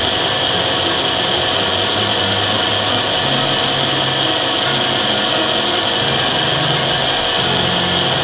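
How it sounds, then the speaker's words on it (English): A DM-200 drilling machine spins its milling cutter with a constant, loud motor whine and whir, steady throughout with a faint low rumble underneath and no pauses or voices. "Press the electric motor button to rotate the milling cutter."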